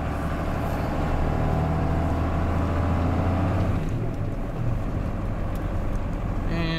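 A 1995 Dodge Ram 2500 pickup accelerates up to speed, its engine a steady loud drone under road and cabin noise, continuous throughout with no talking.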